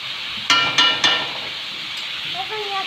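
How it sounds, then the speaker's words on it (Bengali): Potatoes go into hot white oil in a wok, bringing three quick clinks over a constant hissing fry, with a brief voice near the end. "এদিকে সাদা তেল গরম হয়ে গেছে কড়াইতে, এবার আলুগুলো পরপর দিয়ে দিলাম"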